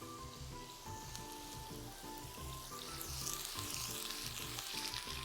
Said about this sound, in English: You guys are gonna get to hear a lot of sizzling.